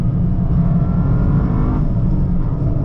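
A 2025 Toyota GR Corolla drives in track mode with stability control off, its engine a loud, steady close-up drone with cabin rumble, holding an even pitch throughout.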